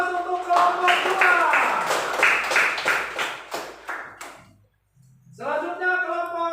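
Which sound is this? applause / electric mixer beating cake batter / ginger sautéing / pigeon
applause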